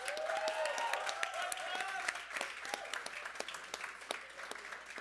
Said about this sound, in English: Round of applause for the Congratulations.